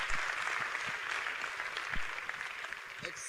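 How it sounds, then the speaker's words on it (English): An audience at the DataFest Africa 2022 conference applauds with steady, dense clapping that carries on throughout, mixed with voices in the room. "please, let's give him another round of applause"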